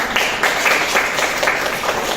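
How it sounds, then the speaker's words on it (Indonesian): A university classroom audience applauds a student presenter during a group guidance session, a dense patter of clapping that holds at moderate loudness for a couple of seconds. "tepuk tangan dulu untuk Aina."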